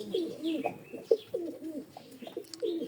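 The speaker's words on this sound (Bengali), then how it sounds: "এটা কি কবুতর? এটা হচ্ছে সাকি টেডি" A Saki Teddy pigeon coos close by, giving a run of soft, throaty, repeated coos in a quiet setting.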